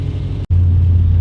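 Steady low engine drone from an Audi RS4 with a catless exhaust, making rear vent flaps vibrate, holds close and loud apart from a brief dropout near the start.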